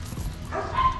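A K9 search dog in training gives a short, close bark-yip, a single quick vocal burst over faint background noise.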